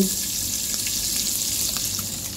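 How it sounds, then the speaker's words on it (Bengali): Quail eggs fry in hot oil with a loud, constant, close crackling sizzle that holds steady throughout. "এখন আমি ডিমগুলো সুন্দর করে ভেজে নেব"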